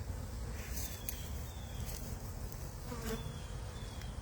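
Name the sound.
honey bees buzzing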